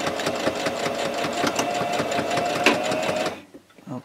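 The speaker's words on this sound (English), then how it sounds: "and sew this. Drop my needle in so my thread doesn't just pull out." An electric sewing machine stitches fabric for a quilted microwave protector in a rapid, steady mechanical chatter close up for over three seconds, then stops, leaving faint handling sounds.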